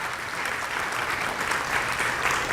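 Audience clapping at a school opening-day convocation, a steady full round of applause throughout the short moment with no voices.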